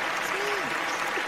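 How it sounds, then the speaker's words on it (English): Loud, steady applause from a crowd fills the whole moment, a dense wash of clapping with a voice briefly sliding through underneath. "I'd like to give you a big round of applause for that."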